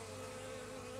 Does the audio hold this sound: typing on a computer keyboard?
no